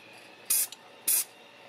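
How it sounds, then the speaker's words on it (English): Two short bursts from a Krylon Triple-Thick Crystal Clear Glaze aerosol spray can sealing stamped artwork, each a bright hiss lasting about a fifth of a second, close and fairly loud against a quiet room. "Let me spray down here in this green"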